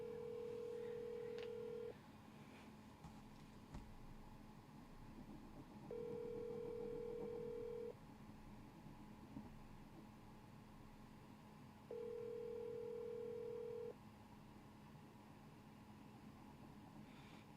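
A phone call rings out as a steady two-second ringback tone repeats three times with long silent gaps between, faint and even over a low line hiss.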